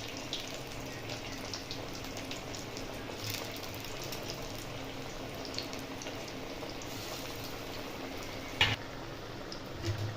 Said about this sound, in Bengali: হাই গরম করার পরে এগুলোকে আমি আরেকবার ভেজে নেব।